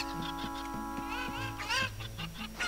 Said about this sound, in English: It's so noisy in this room because of all the chickens.